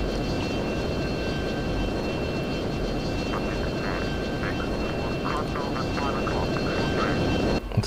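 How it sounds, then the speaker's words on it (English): Continuous roar of a jet fighter in flight with the air brake deployed, from the F-22 Total Air War flight simulator, a steady dense engine rush that stays loud and unchanging, with a faint whine above it. "I want to slow ourselves down with the air brake on."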